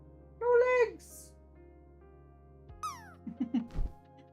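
A pet cat on a couch gives a clear meow, then a second rising meow, followed by a few softer chirps and murmurs, close by in a quiet room.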